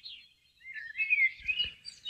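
Bird chirping piped into a golf tournament broadcast: a thin, high warbling song with several quick chirps and trills, fairly clear and alone, with a few faint low thumps near the end.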